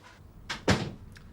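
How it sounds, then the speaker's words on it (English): A door swings shut in a quiet office at a police station, with a brief rustle followed by a solid, close thud and a faint rattle after it. "Close the door."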